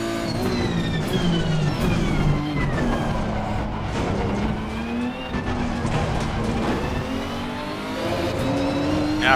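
A 2018 race car engine in Assetto Corsa Competizione on the Suzuka circuit drones loudly and steadily throughout, with rising and falling gear pitches and repeated revving as the car accelerates through corners.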